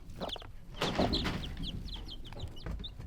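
Chickens cluck in a series of short, close calls over soft farmyard background noise, with a few brighter chirps mixed in.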